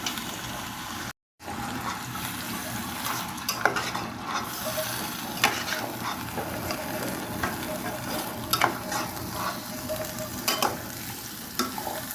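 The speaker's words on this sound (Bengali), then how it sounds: "একদম এই পানিতে এই ঝোলে এই তেলে ভাজা ভাজা হবে" New potatoes fry in oil and their own gravy, a continuous close sizzle with frequent scraping and clinking as a spatula stirs the pan, alone without talk.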